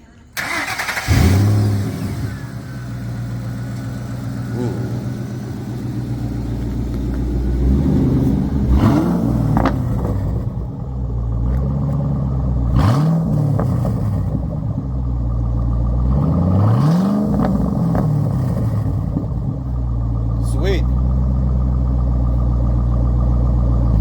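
A classic Ford Mustang engine at a car meet cranks and catches, then revs up in several loud, rising bursts over a steady rumbling idle, with voices talking nearby.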